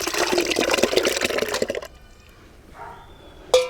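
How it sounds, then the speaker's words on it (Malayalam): Soured rice water poured into a bucket for okra plants, a dense splashing gush for about two seconds that then thins to faint trickles and drips, with no talk. "പുളിച്ച കഞ്ഞിവെള്ളം നമുക്ക് അതിനകത്തോട്ട് ഒഴിക്കാം."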